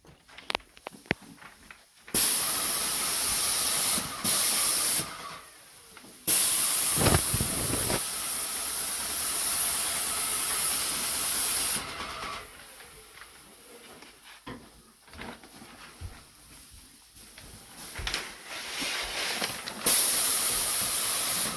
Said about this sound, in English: Right now we're spraying water on the popcorn.